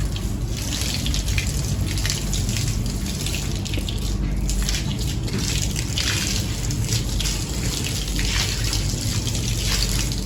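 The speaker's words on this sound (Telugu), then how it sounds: "ఖచ్చితంగా స్పాంజితో తుడిసిన తర్వాతే మళ్ళీ పైప్తో నీళ్లు కొట్టుకోవాలి" Hose water sprays steadily over a car being washed after sponging, in Kuwait, a continuous close rushing gush that runs unbroken for the whole stretch.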